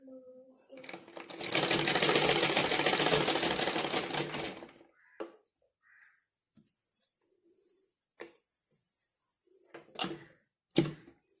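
An electric sewing machine runs a quick burst of rapid stitching on the cross piece at a blouse neck, loud and close for a few seconds, then stops, followed by light handling clicks and taps.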